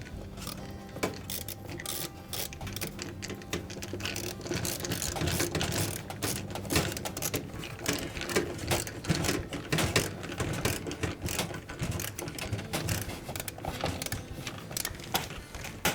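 Hose clamp being tightened onto a drain pipe during a General Electric dishwasher pump repair, a dense run of ratcheting, clicking mechanical strokes that continues steadily and fairly close for the whole stretch, with no talking.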